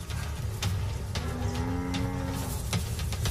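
Buffalo cows lowing in the wild during a lion attack, a long, deep moo rising over a dense rumble of herd noise and wind, loud and steady throughout.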